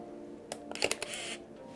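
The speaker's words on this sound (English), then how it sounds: "That was a click of a shutter." A Canon EOS Rebel S II film camera, focusing and firing with no film loaded, gives a few sharp mechanical shutter clicks close up in a quiet room.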